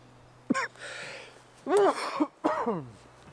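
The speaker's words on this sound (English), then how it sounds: "I was really wanting to cough, but I couldn't cough." A few short, strained throat-clearing grunts and rasps, close by, separated by brief pauses.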